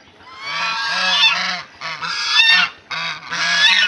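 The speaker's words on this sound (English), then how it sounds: "Notice these geese, these two geese. They have seen me and they started yelling." Village geese in the Sundarbans honk loudly and repeatedly at close range, in long overlapping bursts separated by brief pauses.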